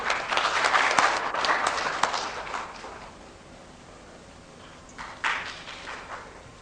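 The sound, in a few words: audience applause welcoming guest to the dais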